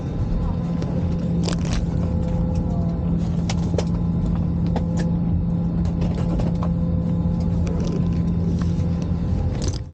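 Steady, dense cabin rumble and whoosh inside an Air Macau Airbus A320 economy cabin, constant throughout with faint scattered clicks and rattles, no voice prominent.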